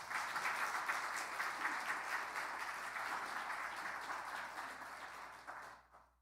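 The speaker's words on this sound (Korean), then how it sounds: "우리 박수 한번 보내드립시다." A church congregation applauds during a Sunday sermon, a dense, steady clapping from a crowd heard at a moderate distance, gradually thinning and fading out over about six seconds.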